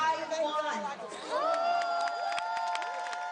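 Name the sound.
crowd cheering and applauding students on stage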